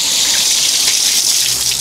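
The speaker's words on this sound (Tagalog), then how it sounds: "Ganyang kalakas yung laman ng tubig." Cold water bursts hard from an opened pipe on Mt. Makulot, a loud, steady, hissing gush that fills the whole moment without pause or voices.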